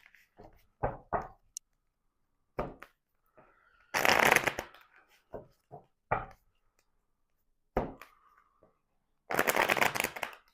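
Tarot cards are shuffled by hand in quick riffling bursts separated by brief pauses, with a few sharp taps and slaps between them. The sounds are close and crisp, and no voice is heard.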